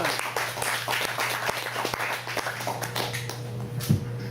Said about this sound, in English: So please give a warm round of applause to Noah Jess.